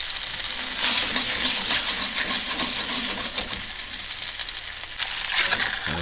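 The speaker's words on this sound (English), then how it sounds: "Just toss it over so we can brown up that other side." Meat sizzles and browns in a hot pan for the stir fry, a dense, steady frying hiss close by with a few light scrapes as it is turned.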